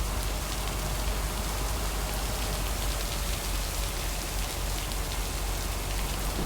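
Heavy rain falls in the video game Lake, a loud, unbroken hiss of downpour on surfaces that stays constant throughout with no other sounds.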